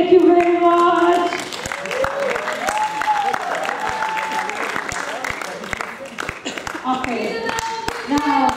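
An audience applauds and claps, a dense burst at first that thins out and then picks up again near the end, with a voice talking over it.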